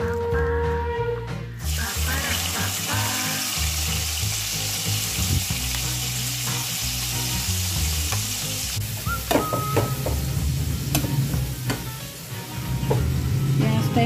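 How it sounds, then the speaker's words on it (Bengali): Onions go into leftover oil in a pan, where a loud crackling sizzle builds and stays steady, with clattering utensil knocks and a brief tonal beep partway through. "যা তেল আছে ওই তেলেই আমি পেঁয়াজ ছেড়ে দেবো।"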